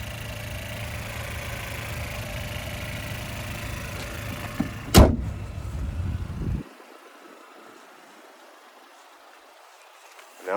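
The 1.5 liter turbocharged 4-cylinder engine of a 2022 GMC Terrain SLT idles up close with a steady hum, followed by a sharp bang like a hood closing, then the engine sound drops away to near quiet.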